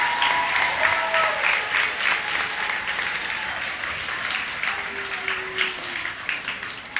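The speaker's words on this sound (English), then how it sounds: "Let's give them a warm applause." Steady, dense applause from an audience at a middle school STEM event, loud and continuous for the whole span with a few faint tonal voices or whistles mixed in.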